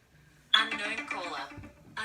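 A telephone ringtone for an incoming call from an unknown caller sounds suddenly after a short quiet moment, loud, close and melodic, and keeps ringing for almost two seconds.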